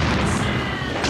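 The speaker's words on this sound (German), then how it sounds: "Ich vermute, es war eine Explosion, Sir." A loud, rumbling explosion in a film fills the whole moment, with a dense, sustained roar and no talk over it.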